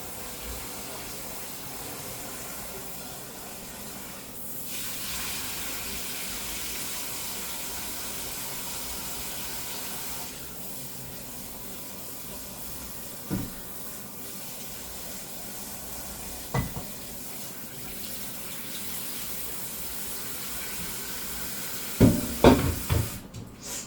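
Cold tap water running over freshly cooked pasta in a kitchen sink for lasagna, a steady faint hiss that goes on for a long stretch, with a few sharp clatters near the end.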